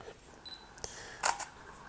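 Olympus OM-D E-M5 mirrorless camera firing a short burst, several crisp shutter clicks close up, with a quick double snap toward the end and quiet in between.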